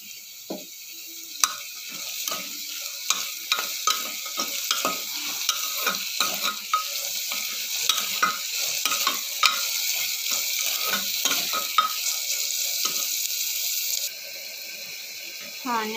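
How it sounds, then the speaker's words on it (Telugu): Sliced onions fry and sizzle in about three tablespoons of hot oil for a mutton curry, with a steady crackle and repeated spoon-stirring scrapes close by, continuing without pause and easing slightly near the end. "ఆనియన్స్ ఫ్రై అయిపోయినాయండి"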